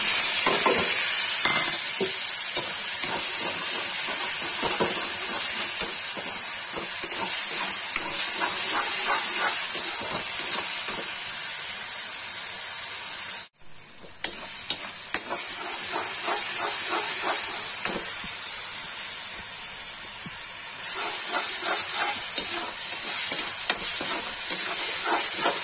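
Onions frying in hot oil for a masala kaleji dish sizzle in a loud, steady high hiss that runs throughout, with scattered stirring clicks and one brief break partway through.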